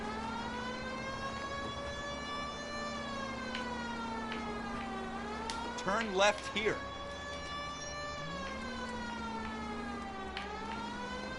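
Police car siren in the video game L.A. Noire, a loud wailing tone rising and falling continuously, with a brief spoken navigation voice heard over it midway.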